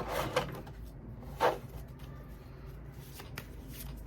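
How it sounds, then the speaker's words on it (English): Tarot cards being shuffled close up, with quiet riffling and rustling and two short bursts of cards slapping together, in an otherwise quiet room. "Shuffling up these cards"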